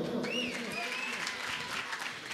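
Applause from the audience at a comedy show on a Bihu stage, a dense continuous clatter of many hands, steady and fairly close, with crowd voices mixed in.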